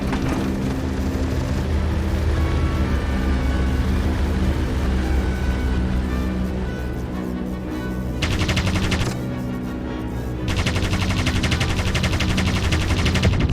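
A WWI-era Vickers machine gun fires continuously from an aircraft in a dogfight, a loud dense stream of shots over a steady engine roar, with brief bursts breaking off and resuming.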